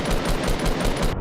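Rapid automatic gunfire in Fortnite, a fast even stream of loud, close shots at roughly ten per second, continuous with no pause and no talking.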